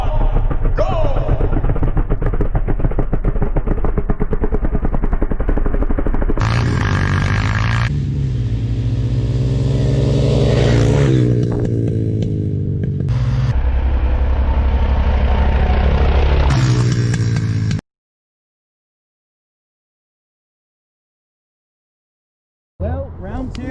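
A Honda TRX250X and a Can-Am DS 250 ATV racing, loud close engines droning and shifting pitch as they accelerate, then sudden silence before the sound returns at the end.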